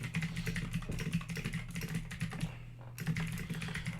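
Rapid clicking of computer keyboard keys comes from close by. It forms a busy, irregular patter, pauses briefly for about half a second, then resumes over a faint constant hum.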